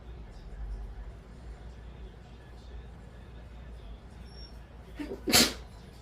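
A single sharp sneeze near the end, close and brief, after several seconds of quiet background noise.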